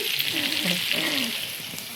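Food fries in a pan at home with a soft, continuous sizzle and light crackle, and faint voices sit in the background.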